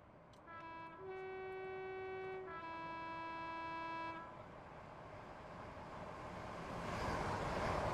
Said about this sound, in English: we're going to watch the train go through